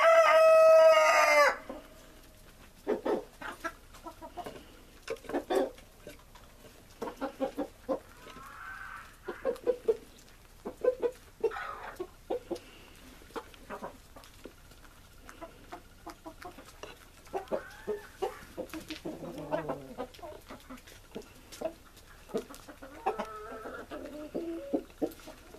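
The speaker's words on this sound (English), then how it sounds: "the younger cockerels are actually harassing the hens" Orloff chickens, young cockerels and hens together in a winter farmyard, clucking steadily with a loud close crow at the start, then scattered bursts of clucks and squawks throughout.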